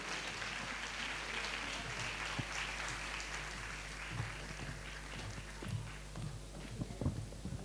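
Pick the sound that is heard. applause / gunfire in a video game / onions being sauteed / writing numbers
applause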